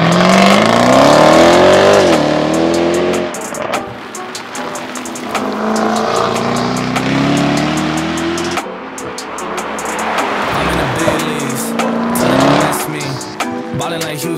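A Jaguar F-Type SVR coupé accelerating hard, its engine rising in pitch through several gear changes with brief pauses and crackles between shifts. The sound is loud and close, with music running underneath.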